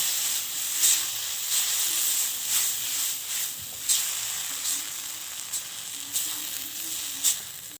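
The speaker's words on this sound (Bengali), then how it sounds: "এখন আমি এর মধ্যে দিয়ে দেব আগে থেকে সিদ্ধ করা ডাল। ডালটা আমি শুকনো শুকনো করে ভেজে নেব।" Boiled lentils fry dry with reddened onions in a pan, giving a steady close sizzle and hiss with faint scraping stirs throughout.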